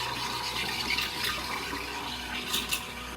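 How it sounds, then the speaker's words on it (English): A coffee machine's steam wand froths milk for a pumpkin spice latte in a home kitchen, giving a steady, fairly loud hissing, gurgling rush that runs unbroken for a few seconds with no talking. "Then I use the little frother thing, or whatever you call this steam wand."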